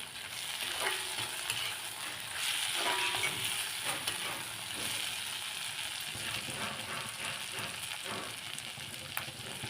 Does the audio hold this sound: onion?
yes